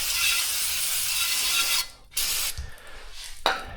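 Brake cleaner hisses in a long, steady spray onto the rear brake parts of a Subaru Outback, then stops and comes back in two shorter bursts, close and loud.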